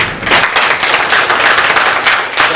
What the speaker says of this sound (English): He needs a big applause.